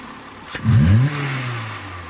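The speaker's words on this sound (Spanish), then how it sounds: "Dale un acelerón brusco" A car engine, heard close, revs sharply once with a quick rising roar, then drops back to a steady low idle, during a fuel pressure regulator check.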